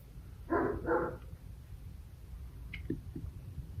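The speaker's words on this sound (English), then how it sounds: "I can hear the squirrels outside harassing my dogs" Two quick, fairly loud dog barks close together near the start, barking at squirrels outside, followed by a few faint knocks and background hum.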